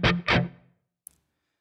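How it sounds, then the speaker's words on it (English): Short palm-muted chugs on a distorted electric guitar, two thick percussive hits close together followed by a faint click before silence. "Finally, play 4 muted notes by relaxing the fretting hand fingers."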